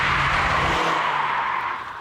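A Ford Sierra Cosworth race car engine roars at full throttle on track, loud and steady, its pitch holding high before easing slightly at the end.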